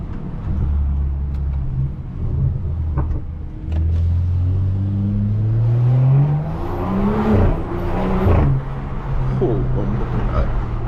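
A BMW F10 sedan pulls hard on a late-night New York City drive, its engine rumbling low and rising steadily in pitch as it accelerates, close and continuous with road noise underneath.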